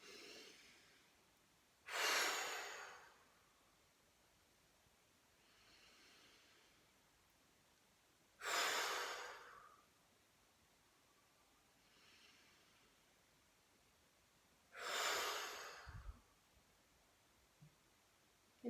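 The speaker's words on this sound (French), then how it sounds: "vous allez pouvoir prendre 3 bonnes respirations toniques" Three deep, forceful breaths during a sophrology relaxation exercise, evenly spaced about six seconds apart, each a close, loud rush of air. Softer exhales follow the first two, in a quiet room.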